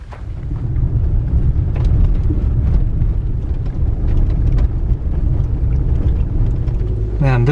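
A Toyota RAV4 drives up a rough mountain road near Skyline Drive, its engine and tires making a loud, steady low rumble with scattered knocks and jolts from the uneven surface.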